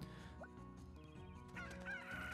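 A chicken in a cartoonish village role-playing game gives a few soft clucks and short fowl calls over quiet background game music.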